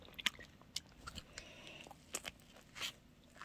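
Someone bites and chews a banh mi sandwich with added spicy sauce, faint close-up crunches and wet chewing sounds coming in irregular bursts over a quiet background.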